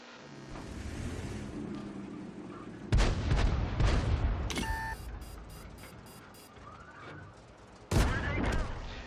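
A tank gun fires in the World of Tanks game, two heavy booming shots several seconds apart over a steady engine rumble, with interface beeps and clatter between them.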